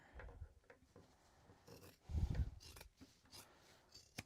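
Scissors trim and clip fabric seam corners on a sewing project. Faint close snips and rasping rubs come in short bursts, with one louder cut near the middle.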